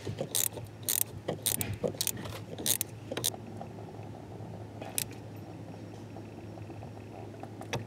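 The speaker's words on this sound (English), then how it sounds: "So I'm just going to go ahead and thread that and tighten that down now." A bolt threaded and tightened with a ratchet while refitting a rusted subframe on a Honda Accord: a run of quick, bright ratcheting clicks in bursts over the first three seconds, then sparser clicks over a steady low shop hum.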